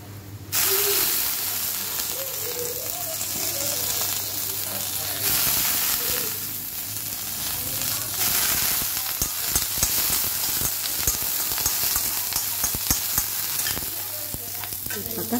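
Elephant foot yam pieces frying in a pan, a steady close sizzle and hiss with occasional stirring scrapes throughout.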